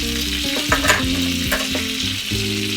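Seasoned curry shrimp pasta sauce is stirred in a sizzling pan, a continuous loud fry hiss with a few spoon scrapes, heard over steady background music.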